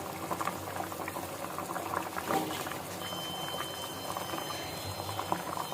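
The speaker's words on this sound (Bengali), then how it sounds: "তোমরা তো দেখতেই পেয়েছো ও ঝোলটা ফুটে উঠেছে" Potato gravy for a papad curry bubbles and simmers in a pot, a close continuous boiling with small pops and gurgles throughout.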